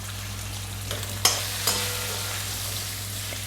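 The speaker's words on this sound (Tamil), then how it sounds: "இப்போ நான் என்ன பண்ண போகிறேன், இந்த கேப்சிகம் அண்ட் ஆனியனை போட போகிறேன்." Capsicum and onion sizzle in a pan, a steady soft frying hiss with two brief sharp crackles near the start, no talking.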